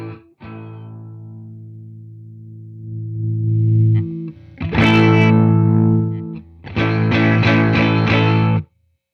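A distorted electric guitar plays through the speaker of a Fender Tone Master amp with no cab sim: a long sustained chord, then two bursts of chugging chords before an abrupt stop, loud and close.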